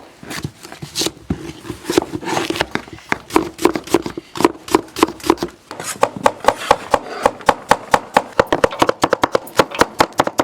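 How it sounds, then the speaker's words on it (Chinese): A knife slicing washed white radishes, quartered and cut into pieces on a board: a loud, close run of crisp chopping strikes, irregular at first and then settling into a quick, steady rhythm, with low voices faintly in the background. "把洗净的萝卜切成片，萝卜一切4瓣，再切片"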